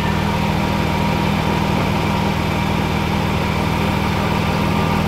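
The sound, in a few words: Jaguar F-type S engine idling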